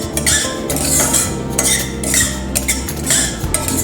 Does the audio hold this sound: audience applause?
no